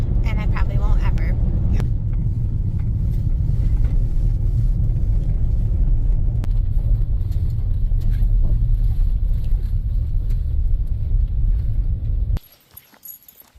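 Driving back to a rented house from the Horseshoe Inn in Scotland, heard from inside the car: a steady, loud low engine and road rumble that continues for over twelve seconds before cutting off abruptly.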